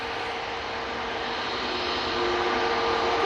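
An airliner roars at Manchester Airport, a steady jet-engine rumble heard from a distance that swells slightly louder toward the end, with no voices over it.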